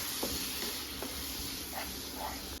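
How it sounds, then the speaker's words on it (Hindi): Beaten yogurt is stirred into green chillies in a pan over a low flame, a soft steady hiss with a few faint scraping strokes of the spoon, close and without talk. "इसमें आधा कप फेटा हुआ दही ऐड कर देंगे और लो फ्लेम पे ही ऐसे अच्छे से मिक्स कर लेंगे"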